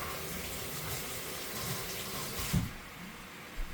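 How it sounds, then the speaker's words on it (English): Water runs steadily from a kitchen tap while black-eyed peas are rinsed, a soft continuous hiss with a brief splash and thump partway through. "Let me rinse these out."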